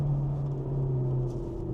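A Cupra Leon's engine hums steadily from inside the car while driving along a winding road toward a lookout, a continuous low drone with a sustained tonal note and no talk over it.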